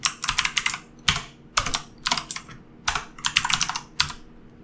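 Keystrokes on a computer keyboard as a search term is typed, coming in quick clustered bursts of clicks with short pauses between words, close and clear with no talking.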